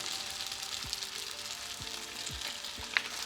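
Chili flakes sizzle in hot oil in a pan for takeout-style fried noodles, a steady close hiss broken by a few soft low knocks of stirring.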